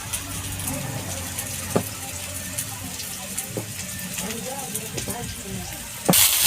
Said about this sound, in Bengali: পটলটার সাথে টমেটোটা ভালো করে ভেজে নিই